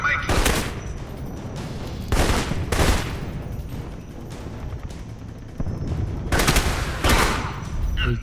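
Gunfire in the video game Alpha Protocol: loud bursts of automatic fire come in several separate volleys over a constant background, each burst rapid and harsh, up close and dominant.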